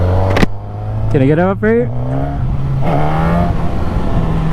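A 2024 Suzuki GSX-S1000 motorcycle engine runs with a steady, close rumble in power mode C with traction control off, rising slightly partway through, while someone speaks over it.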